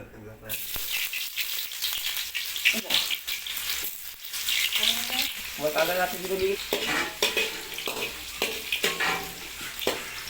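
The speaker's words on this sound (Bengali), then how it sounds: "আমাদের অয়েল গরম হয়ে গেছে, এবার আমরা পেঁয়াজ দিয়ে নিচ্ছি।" Chopped onions dropped into hot oil sizzle loudly and steadily, with scraping stirs and a brief stretch of voice partway through.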